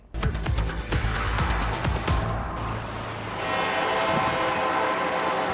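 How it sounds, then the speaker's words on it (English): A train rolls through downtown Greensboro, its horn blaring loudly over heavy rumbling and rhythmic wheel clatter, then a sustained whistle-like tone as the cars pass close by. "Like the sound of the train in downtown Greensboro is consistent and in a way reassuring."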